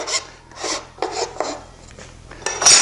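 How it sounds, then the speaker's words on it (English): Hand file rasping across the ends of edgebanding in several short strokes, close and fairly loud, with brief pauses between passes and no talking. "But I can take them down with a file and with a couple licks."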